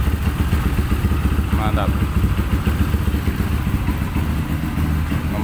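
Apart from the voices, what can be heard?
motorcycle engine running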